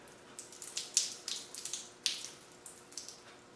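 Cold water runs from a tap in a quiet space, a soft, fairly faint splashing trickle with a few brief louder gurgles and spatters across a few seconds.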